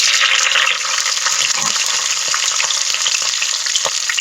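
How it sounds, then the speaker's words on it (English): Small red onions with whole cardamom, cloves and fenugreek fry in hot oil for a crab masala, producing a loud, dense, continuous sizzle with faint crackles throughout. "I'm going to add small red onion"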